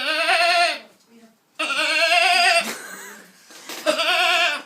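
A person imitates a lamb bleating, giving three wavering, nasal baa calls with short pauses between them, close and loud.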